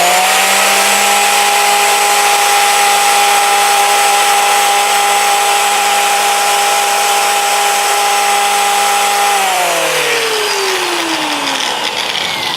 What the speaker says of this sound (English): And now I just simply bring the contour sander.